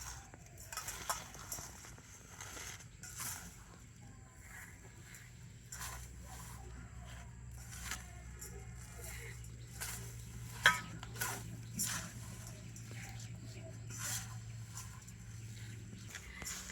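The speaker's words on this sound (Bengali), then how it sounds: "হাত দিয়ে যতটা সম্ভব ভেঙে আমি এইরকম ছোটো ছোটো করে নিয়েছি" Fried vermicelli being broken by hand into small pieces, giving scattered dry crackles and crisp snaps at irregular moments over a faint low hum.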